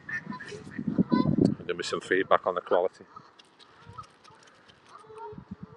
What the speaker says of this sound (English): Oh yeah, all the birds are coming.